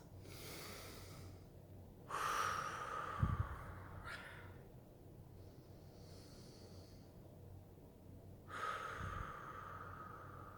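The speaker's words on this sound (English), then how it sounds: "let's just take a couple of deep breaths" A person takes a couple of slow, deep breaths during a guided pause, each soft inhale and exhale heard close and quiet, with silence between them and no talking.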